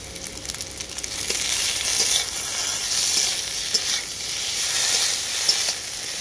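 A ground paste of cumin, coriander and dried chilli fries with aubergine and potato in oil. It makes a loud, dense sizzle that swells as it is stirred, with scraping pulses throughout and no talk.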